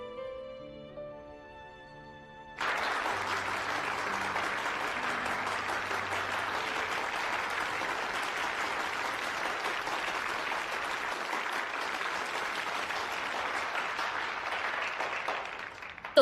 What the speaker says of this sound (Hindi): इनके लिए तालियां हो जाएं।